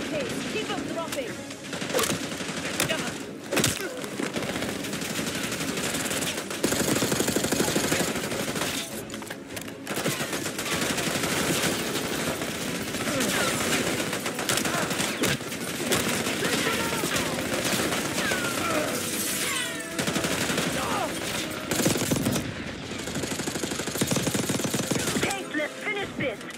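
Dense, sustained automatic gunfire and bursts of shooting in the Call of Duty: Black Ops 6 video game, loud and continuous with crashes, under and between voices talking.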